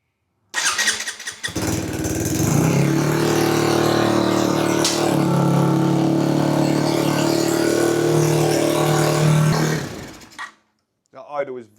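A 125cc race bike engine catches almost at once and settles into a loud, steady, high idle with a buzzy two-stroke tone, running close for about ten seconds before cutting off; talk can be heard over it.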